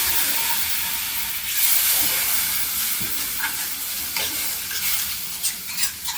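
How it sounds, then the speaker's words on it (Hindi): Milk is poured bit by bit into roasted flour for a lasagna white sauce while it is stirred in a hot pan, giving a loud steady sizzle and hiss with scraping strokes of a spoon throughout. "इसी में थोड़ा थोड़ा करके दूध डालेंगे"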